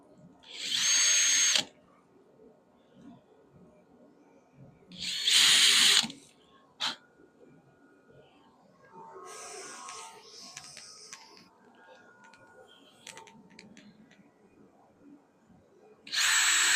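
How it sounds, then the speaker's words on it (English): Two long bursts of a power drill whirring loudly as hinge holes are drilled, separated by quieter handling and clicking noises, with a third short burst starting at the end. "just mark up the hinges now and just drill them properly."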